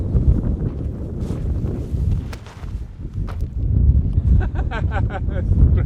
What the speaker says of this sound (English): we got a lull in the wind. It slowed down to probably 15